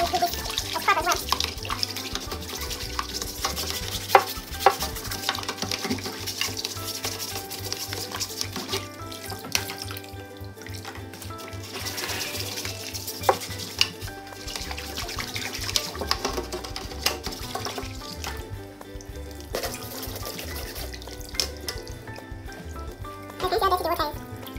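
A greasy kitchen rangehood filter is scrubbed in a sink of dirty water, with steady sloshing and rubbing close by and occasional knocks, under a continuous wash of running water.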